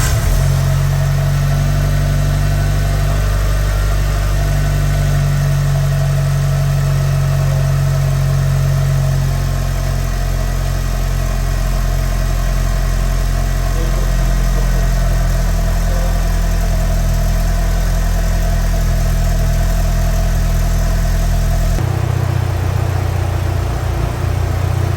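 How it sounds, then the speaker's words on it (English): A Mitsubishi Evo VI engine idles after a service for idle issues, a steady, close, loud rumble with a load shift from lights and air conditioning, and a noticeable change in tone near the end. "I turn the car on, it sounds so much better"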